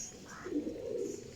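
A Salara Cheena pigeon gives one soft, low coo, close by and fairly quiet, with a little background noise around it.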